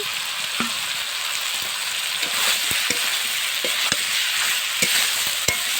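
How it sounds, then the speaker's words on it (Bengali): Fried prawns and eggplant sautéing in a pan, a steady sizzle broken by sharp ticks and knocks of a spatula stirring at uneven intervals. "এর মধ্যে আমি ভেজে রাখা চিংড়িগুলো এবারে দিয়ে দিচ্ছি"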